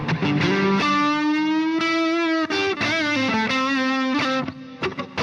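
Electric guitar chords drenched in heavy reverb from the iZotope Aurora reverb plugin, sustained notes washing together with a distant, spacious tail; loud, no voices.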